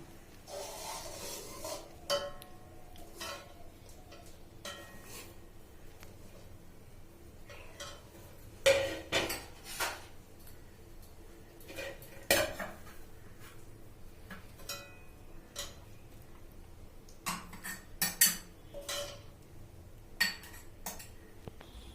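Bottle gourd payesh being ladled from the cooking pot into a serving dish, with scattered metallic clinks and scrapes of a spoon against the pot at irregular intervals, fairly quiet and close, no talking.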